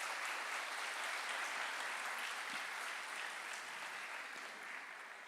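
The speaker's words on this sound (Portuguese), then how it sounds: "Vamos aplaudir Jesus na vida dos irmãos" A church congregation applauds in a steady, dense wash of clapping that holds for several seconds and fades slightly toward the end, with no speech over it.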